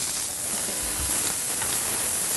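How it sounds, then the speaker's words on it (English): Seared food sizzles in a pan, a steady broadband hiss that holds at an even, close level throughout, with no talking. "Put them in the pan and let them sear."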